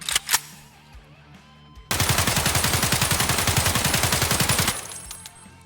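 Crouched full-auto video game gunfire: a sustained, evenly paced stream of loud automatic shots lasting nearly three seconds, after a couple of sharp clicks at the start.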